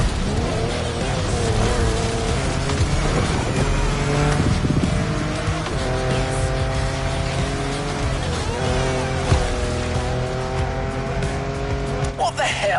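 A car engine drives in the racing game The Crew Motorfest, its steady revving whine rising and falling in pitch, with tire squeal and skidding over a continuous loud mix.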